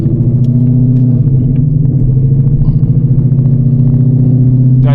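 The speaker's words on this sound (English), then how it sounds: "I turned on the car" The engine of a 900hp S650 Mustang GT runs as a loud, steady, deep rumbling idle with a pulsing throb, close and continuous throughout.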